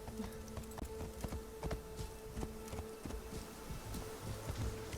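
Horse hooves clip-clopping at a walk in the video game Assassin's Creed Shadows, a steady run of soft, close thuds over a faint hum with no talk.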